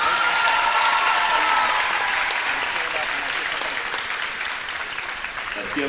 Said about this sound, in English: Let's give another round of applause for our 4 seniors.